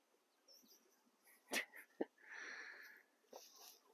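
A dog moving through a four-year-old food forest in Hawaiʻi gives a couple of short, sharp snorting or wheezing bursts at middle distance, with quieter rustling and outdoor ambience around them.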